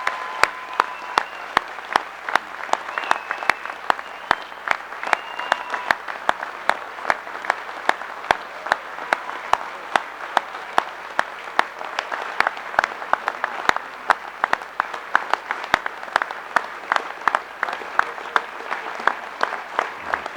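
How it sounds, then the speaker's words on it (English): An audience at the 2019 College Football Hall of Fame ceremony keeps up sustained applause for the honored class, dense overlapping claps with a few sharp louder claps standing out, continuing steadily for around twenty seconds. "Can you please give this class one last round of applause?"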